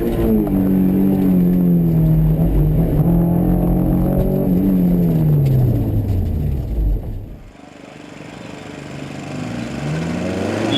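Honda S2000 accelerating hard through an autocross course on a wet, rainy day, its engine note climbing and falling through gears for about seven seconds before easing off, then building again, loud and close.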